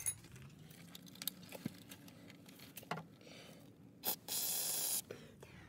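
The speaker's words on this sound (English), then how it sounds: "I'm gonna spray that a little bit. WD-40." A short, faint hissing burst of WD-40 spray sounds amid quiet handling noises and small clicks in a workshop, during Honda Civic clutch cylinder work.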